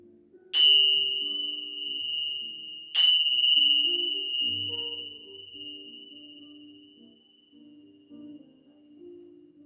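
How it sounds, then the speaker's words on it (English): Two bells are struck a couple of seconds apart during a chair yoga relaxation. Each rings out with a clear, sustained tone that slowly fades over a soft low hum. "Let your mind, your body, and your soul absorb the vibrations of the bells"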